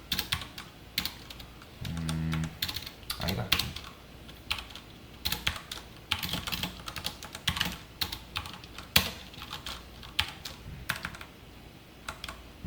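Rapid typing on a computer keyboard while entering Python code, with dense irregular clicks and clacks, a few louder key strikes, steady and close throughout with no talking.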